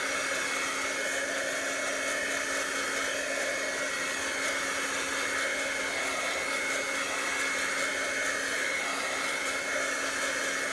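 A dryer blows steadily and loudly while dyed sari silk dries, giving a constant, even whoosh that never lets up, with no voices.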